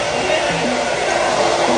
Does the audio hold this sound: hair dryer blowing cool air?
yes